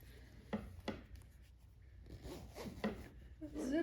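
Several short scratchy pulls of the zipper on a crocheted granny-square pillowcase and rubbing sounds, close and quiet, spaced irregularly with soft handling noise between them.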